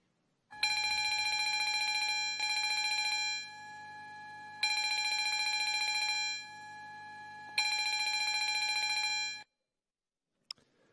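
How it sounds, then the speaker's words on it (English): Division bells ring in the Queensland Parliament chamber in three long, loud, steady bursts of about two seconds each, separated by short pauses, with no talk. "A division has been called. Ring the bells."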